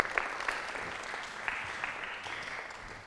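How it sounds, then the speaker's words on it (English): Group applause from a large audience at a Britten centenary celebration, a soft, steady patter of many hands clapping at a distance, faint and continuous with a few sharper claps, no voices over it. "Give yourselves a little round of applause."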